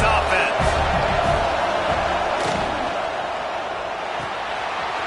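A football stadium crowd at a Washington versus USC game roars as a steady, loud wash of noise, with a broadcast commentator's voice over it and a few thumps early on.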